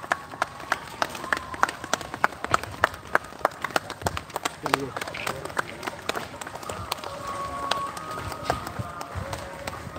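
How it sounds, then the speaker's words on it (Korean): Crowds of village residents in India clap for passing pilgrims on an early-morning walk, producing a steady patter of many hands with scattered sharper claps, close and continuous, with voices and footsteps mixed in. "또 수많은 주민들이 이렇게 박수를 보내고 있습니다"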